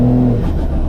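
A car drives along with its engine and road noise held loud and close, a steady low rumble with a brief tonal hum at the start.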